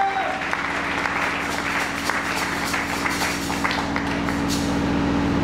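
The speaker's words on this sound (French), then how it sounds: "Acclame un peu pour les Seigneurs." Church congregation applauding and cheering during a worship service, dense continuous clapping layered over steady music.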